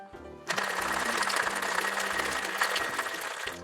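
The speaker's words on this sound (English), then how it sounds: "Now, I'm going to add some ice. And we're going to wet shake." Ice rattling hard inside a cocktail shaker during a wet shake for a rum egg nog, a dense, loud rapid rhythmic clatter starting abruptly after a quiet moment and continuing steadily to the end.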